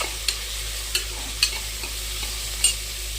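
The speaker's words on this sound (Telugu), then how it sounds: "ఆనియన్స్ని ఒకసారి బాగా ఫ్రై చేసుకోవాలి." Onions and green chilies frying in a pan make a steady sizzle, with a few sharp clicks of a spoon against the pan as they are stirred close up.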